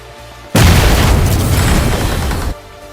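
A grenade blast in a squad shooter game, one sudden loud boom that roars for about two seconds and then cuts off, with no talk over it.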